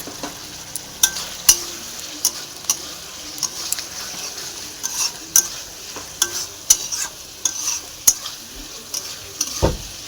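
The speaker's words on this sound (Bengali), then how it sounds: "ফুলকপিটা দিয়ে ভালো করে মশলাটাকে মিক্স করে নিতে হবে।" Fried cauliflower pieces stirred with green and dry chillies and spices in a pan, a steady sizzle broken by repeated sharp scrapes and clicks of the spoon against the pan, close and moderately loud with no talking.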